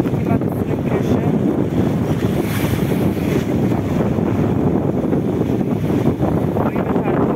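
Strong wind at sea aboard a sailing yacht near the Tuamotu atolls, with wind close to 20 knots, roars as a steady, dense rush with water noise, loud and continuous throughout.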